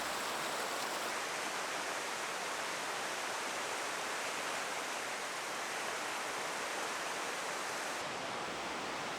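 A river in Yosemite Valley in spring runs with a steady, broad rushing wash of water that stays even and continuous throughout, with no voices.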